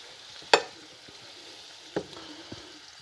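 Chicken pieces cooking in a skillet for a Mediterranean-style one-pan dish: a steady soft sizzle of frying runs throughout, broken by a sharp scrape or clack as pieces are flipped and a couple of lighter knocks after, with no talking.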